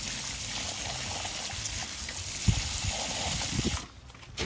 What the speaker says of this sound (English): Get a bit of water in there